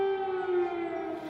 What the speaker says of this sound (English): Sounds of sirens and missiles resonated all day across Ukrainian cities